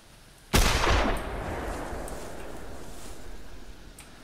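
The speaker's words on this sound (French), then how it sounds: "Bon, j'ai tiré à terre." A single sharp gunshot fired at a pheasant in TheHunter Classic hunting game cracks loudly and close, then rolls off into a long fading echo with no further shots.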